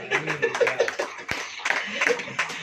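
A church congregation claps at a preacher's call during a Hindi sermon, with rhythmic hand claps close by mixed with voices and chuckles.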